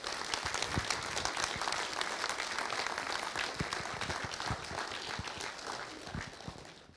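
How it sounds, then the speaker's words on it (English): Congregation at a Remembrance service giving a round of applause, many hands clapping in a steady, crisp patter that holds for several seconds before tapering slightly at the end. "Can everybody just give these guys and girls a round of applause, please?"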